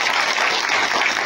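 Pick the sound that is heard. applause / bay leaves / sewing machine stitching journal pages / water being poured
applause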